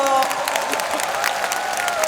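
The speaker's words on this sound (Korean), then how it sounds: "두 분께 큰 박수 보내주십시오." Audience at a talk concert gives a steady round of applause, loud and continuous throughout, with a hint of crowd voices and a tonal note lingering underneath.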